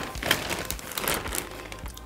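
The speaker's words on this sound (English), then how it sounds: "And this same dust bag comes in this plastic bag." A thin plastic bag holding a fabric dust bag crinkles and rustles continuously as it is handled up close, a steady crackling texture with no speech.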